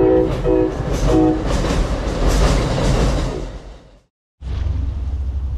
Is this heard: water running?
no